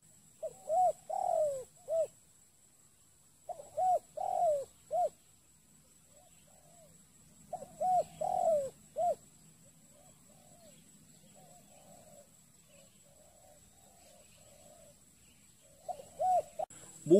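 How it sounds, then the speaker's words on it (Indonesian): Zebra doves (tekukur) coo in repeated short bursts of soft rhythmic notes, with quieter distant calls between them in an open outdoor setting where bird-trapping decoys are set up. "Burung tu"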